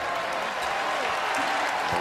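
Big arena crowd at a college basketball game in Atlanta, Kentucky against St. John's, applauding steadily for a player heading to the bench, a dense continuous wash of clapping and cheering that holds level throughout.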